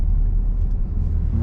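A car pulls away smoothly in second gear during a learner's driving lesson, with a steady low engine rumble accelerating gently and continuously, close up from inside the cabin.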